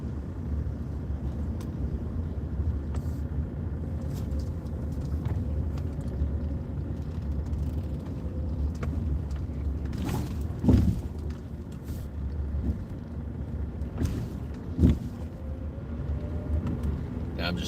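A car circling slowly makes a steady low engine rumble and road drone from inside the cabin, with a few thumps and brief rattles over the top and some talking.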